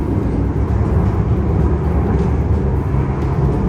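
Steady interior rumble of a passenger train travelling from Kuala Lumpur to Penang, Malaysia, a dense low drone with faint rattles running continuously throughout, no voices.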